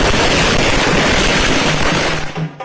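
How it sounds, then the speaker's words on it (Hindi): Fireworks burst in a dense, continuous crackle and pop during a grand welcome celebration for a Union minister in Patna, loud and sustained before fading out near the end. "ढोल नगाड़े के साथ जमकर आतिशबाजी।"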